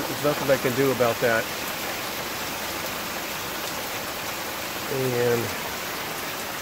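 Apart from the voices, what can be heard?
rain falling on a rainwater collection system in Texas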